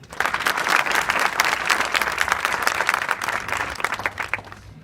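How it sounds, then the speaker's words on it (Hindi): A room of seated children applauding together at a foundation event, a burst of dense, fairly close clapping that holds steady for several seconds before thinning out. "आप सभी अपने लिए एक जोरदार ताली बजाओ"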